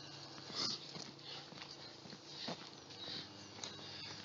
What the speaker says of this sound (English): It's a noisy dog.